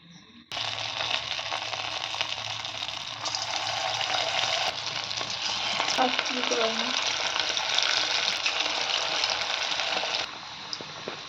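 Chicken pakoras deep fry in hot oil, a loud, steady bubbling hiss that starts abruptly and holds for several seconds, close by, with faint background sounds and no clear talk.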